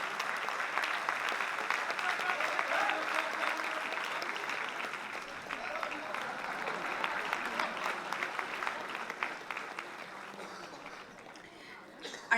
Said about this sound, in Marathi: त्यामुळे जोरदार टाळ्या वाजवून आपण या भावनेमध्ये सहभागी होऊया. टाळ्यांचा गजर जोरदार करूया.